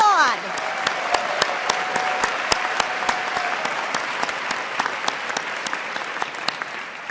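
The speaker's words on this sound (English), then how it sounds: "To begin with, we applaud." Audience at a Michigan Ross business school commencement ceremony applauding, a broad sustained wash of clapping with crisp individual claps standing out, continuing steadily after a brief opening tone.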